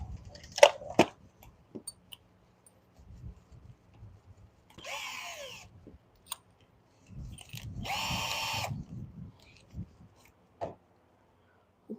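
In a shop during installation of a powder-coated intake manifold on a 1986 Ford Escort, a power drill whirs in two short bursts, close by, between quiet clanks and handling noises, with no talking.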